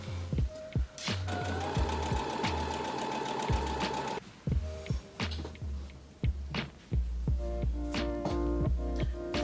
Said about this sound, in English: I'm just gonna give it another straight stitch around here.